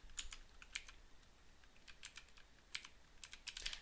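Quiet, irregular clicking of keys on a computer keyboard during a coding session, scattered single taps and short bursts at close range with no talking.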